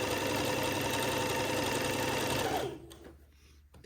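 A sewing machine running fast at a steady high-speed stitching whir, loud and close, before cutting off abruptly near the end, leaving a faint quiet tail.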